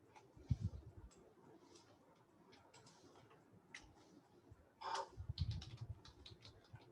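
Computer keyboard keys clicked in a short burst of shortcut presses during C programming work, faint clustered taps with a low thump near the start and another flurry toward the end.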